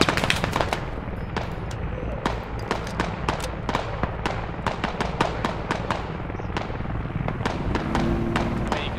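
Dense gunfire in the military shooter game Squad, set on the outskirts of Tallil during a U.S. invasion: rapid bursts of rifle and machine-gun shots crack over a constant rumbling battlefield bed, steady and loud throughout with no talking.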